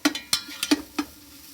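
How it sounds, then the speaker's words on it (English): Celery and onions are sauteed in a pan, a handful of quick clinks and scrapes from stirring spaced less than a second apart over a faint sizzle, close and without speech. "Sauteing celery and onions"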